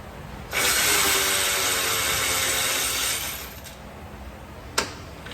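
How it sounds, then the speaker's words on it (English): A power tool loosens the top strut bolt on a 2017 Subaru Impreza front strut, giving a loud, steady whirring run of about three seconds that stops, followed by a single sharp click. "Hold on to it as you loosen your last bolt on top here."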